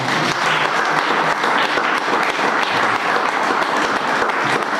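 A church congregation claps together during a Hindi-language sermon, a dense, loud and continuous burst of many hands that holds steady throughout with no voices over it.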